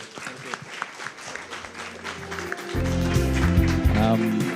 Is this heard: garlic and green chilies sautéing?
no